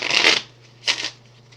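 Onirim game cards shuffled in two close bursts of riffling and flicking, the first longer and the second shorter, heard alone with a faint steady hum beneath.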